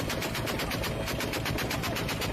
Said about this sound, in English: That's open fire, like from the helicopter.